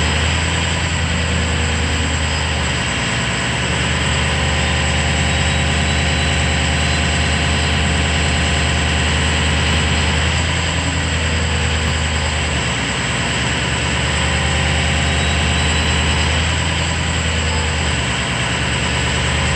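A truck engine runs steadily at raised RPM for a long stretch, a loud, dense mechanical drone with a strong low hum and a few slight fluctuations, close to the microphone.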